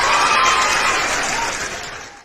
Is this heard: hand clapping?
yes